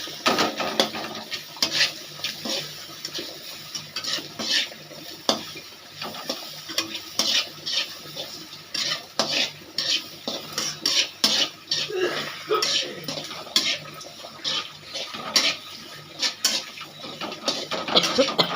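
Spices lightly frying in a little oil in a kadai, with a continuous close sizzle broken by frequent scraping and clinking stirs of a utensil against the metal pan, plus a brief cough and occasional soft talk.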